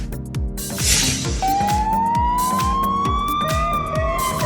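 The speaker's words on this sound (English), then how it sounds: "Litva Police Car." A Lithuanian police car siren wails loudly with a rising tone over the steady rhythmic throb of the vehicle's engine, close by and continuous.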